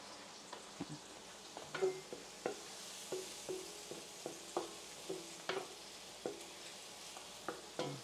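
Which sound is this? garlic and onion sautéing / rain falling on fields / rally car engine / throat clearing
garlic and onion sautéing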